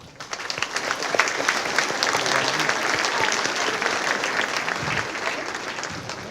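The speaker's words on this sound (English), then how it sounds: "if we could all give them a round of applause" An audience applauds students at a graduation ceremony, steady dense clapping filling the room for several seconds.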